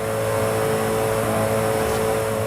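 A Koenigsegg supercar engine in a racing video game revs with a steady, loud synthetic drone, a sustained high whine over low rumble lasting a couple of seconds, with no talking.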